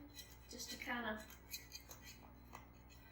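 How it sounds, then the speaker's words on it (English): A metal knife scraped around the inside edge of a cake pan for a coconut cake, giving a short near scraping and clinking rasp over a faint background hum, with a voice talking lightly around it. "I just like to take a knife and just kind of go around the edge of the pan"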